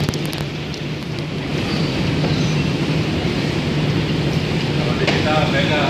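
A steady, rumbling roar of a train running through a tunnel under the sea fills the space, with a constant low hum and faint rattling throughout.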